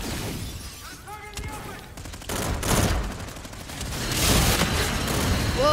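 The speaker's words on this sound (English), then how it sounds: "Oh, he's using a minigun." A minigun blazes away in Call of Duty Infinite Warfare multiplayer, dense sustained fire with crashing, shattering impacts and booms, loud and close, while a player talks over it.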